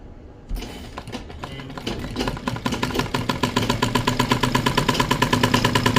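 A domestic sewing machine runs a thin piping stitch along a blouse seam, a close, rapid mechanical chatter that starts after a brief pause and settles into a steady, quickening rhythm, with no voices.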